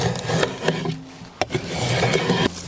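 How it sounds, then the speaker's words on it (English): A draw knife shaves and rips down a hickory stave for a recurve bow in rough, scraping strokes, with sharp woody cracks and splits between the rasping pulls, close and fairly loud. "I'm just gonna try and take my draw knife and rip it down to that line"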